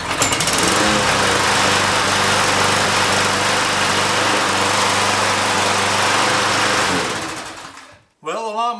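A Troy-Bilt push lawn mower engine runs loud and steady at close range for about seven seconds, then cuts off abruptly; a voice speaks briefly after the engine dies.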